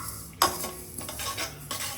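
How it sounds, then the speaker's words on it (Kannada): Poppy seeds are stirred and dry-fried in a pan, a soft ongoing sizzle broken by a sharp spoon scrape against the metal and a few lighter scrapes after it. "ಇವಾಗ ಇದಕ್ಕೆ ಗಸಗಸೆ ಚೆನ್ನಾಗಿ ಫ್ರೈ ಮಾಡ್ಕೊಳ್ಳಿ."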